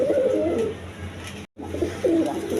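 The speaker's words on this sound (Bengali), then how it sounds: "এক পেয়ার জ্যাকোবিন কবুতর আছে" A pair of red Jacobin pigeons coo close by, two rounded throaty phrases separated by a brief gap.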